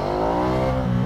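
A 2019 Ducati Diavel 1260 motorcycle engine revs loud and close, its rising harmonic drone holding strong through a brief throttle run with no voices.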